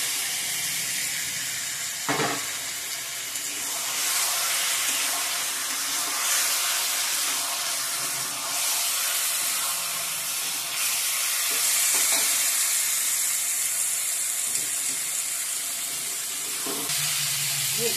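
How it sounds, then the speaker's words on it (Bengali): Marinated yogurt chicken fries in hot spiced oil in a home kitchen pan, a steady loud sizzle and hiss with occasional spoon scrapes as it is stirred, no voices. "নাড়িয়ে নাড়িয়ে রান্না করব। ভালো করে ভেজে নেব চিকেনটাকে মশলার সঙ্গে।"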